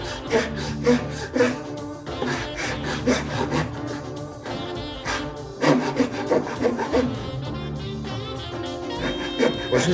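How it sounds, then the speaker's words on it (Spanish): A handsaw cuts through wood in a steady back-and-forth rhythm of rasping strokes, close and fairly loud, laid over continuous music throughout. "que deslice sobre la madera el serrucho y ya os va marcando el corte"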